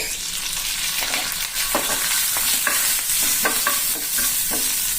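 Crushed black pepper and curry leaves crackle in hot oil in a pan. A steady, loud sizzle carries through with intermittent scraping stir strokes, and no one speaks.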